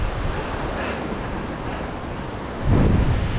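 Strong wind roars continuously across a hilltop overlook, a close, rushing buffeting against the microphone that surges louder near the end.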